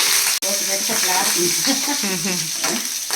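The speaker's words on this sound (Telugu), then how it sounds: "ఆయిల్ అంతా ఆవాలు కరివేపాకు వేసాం కదా పచ్చి కరివేపాకు అందుకు తుల్లుతుంది" Mustard seeds and fresh curry leaves sizzle and crackle in hot oil, a continuous bright spluttering with a sharp pop near the start, heard close up and without talk.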